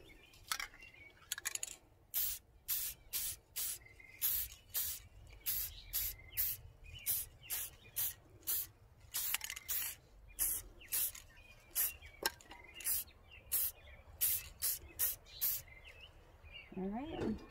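Repeated short bursts of silver spray paint hissing from an aerosol can onto a tumbler, a steady rhythm of spritzes close by, with brief clicks between and no talking.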